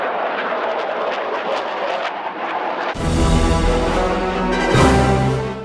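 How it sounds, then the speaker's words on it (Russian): Strategic bombers, Tu-160 and Tu-95, take off from Engels air base in Saratov region during the West 2009 military exercises. A diffuse rumble gives way to a sudden, loud, droning engine roar that swells and persists. "С авиабазы «Энгельс» в Саратовской области в небо поднимаются белые лебеди и медведя, стратегические ракетоносцы Ту-160 и Ту-95."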